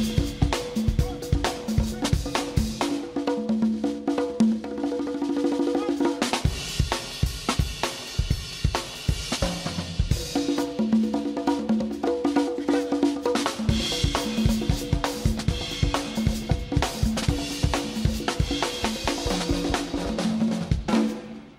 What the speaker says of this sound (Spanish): Y tocamos los tambores.